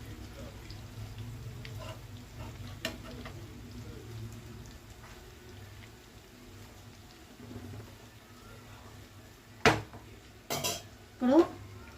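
A spoon turns bitter gourd fry in a pan, faint background hiss with a few sharp metallic clinks and scrapes near the end, while a voice talks quietly earlier.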